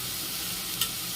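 Onions and curry leaves sautéing together in a pan for a rajma (kidney bean) gravy, giving a brief, steady close-up sizzle with a faint scrape of stirring partway through.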